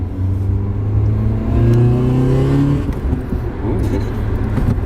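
A modified Volvo car engine fitted with new headers and a VTEC engine revs up loudly nearby, rising in pitch and then settling back to a rough idle.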